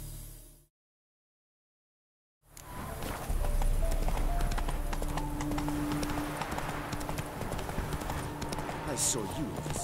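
Horse galloping in the video game The Witcher 3: Wild Hunt, a rapid steady clip-clop of hooves that begins after a brief silence and continues under game sounds, with voices speaking.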